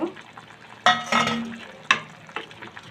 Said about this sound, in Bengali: আমার যে ফুলকপির তরকারিটা আমার কষানো হচ্ছে